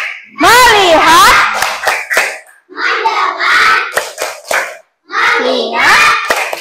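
Schoolchildren performing the 'tepuk fokus' clapping chant in an Indonesian classroom lesson, loud rhythmic claps in short bursts mixed with chanted young voices, with brief pauses between groups.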